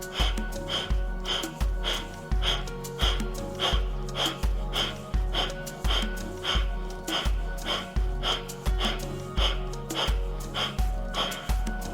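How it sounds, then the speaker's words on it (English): Rapid, forceful nasal exhales of breath of fire yoga breathing during a vinyasa session, a steady rhythmic train of about two to three sharp puffs per second, close and clear, continuing unbroken without talk. "Take a big deep breath in, quick breaths out."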